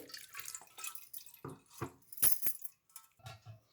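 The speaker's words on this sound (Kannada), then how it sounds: "ಈಗ ಇದಕ್ಕೆ ಸ್ವಲ್ಪ ನೀರು ಹಾಕ್ಕೊಂಡು ಇದನ್ನು ಫಿಲ್ಟ್ರ್ ಮಾಡ್ಕೊಳ್ತೀನಿ" Water being poured and trickling through a strainer while ground masala is filtered for buttermilk in a home kitchen, giving a few faint, intermittent splashes and drips close by.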